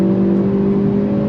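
A 2023 Hyundai Elantra N with about 276 horsepower under acceleration, throttle rolled on, giving a steady, loud engine drone with a strong even hum that holds for the whole moment, no voices.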